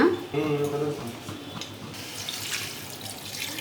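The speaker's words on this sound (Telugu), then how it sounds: "సాల్ట్ వేసి వాటర్ వేసేసుకోవాలన్నమాట." Water is poured into a pan of salted shark fish curry, a splashing, gurgling flow that settles into a softer trickle, with a brief voice at the start.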